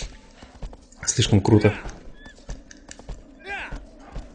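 A horse in Shadow of the Colossus whinnies and clip-clops as it gallops, with hoofbeats under a man's speech.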